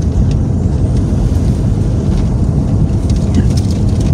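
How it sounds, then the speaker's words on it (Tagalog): Loud, dense mountain rain drumming steadily on a Toyota HiAce van roof, a constant heavy roar with a low rumbling undertone. "Iba pa naman yung ulan sa bundok."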